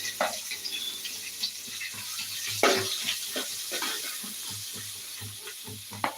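Onions sizzling in a hot pan on a home stove, a steady soft frying hiss with small clinks of stirring, close and moderately quiet, no talk.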